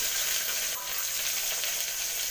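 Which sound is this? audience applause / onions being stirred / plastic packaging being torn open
onions being stirred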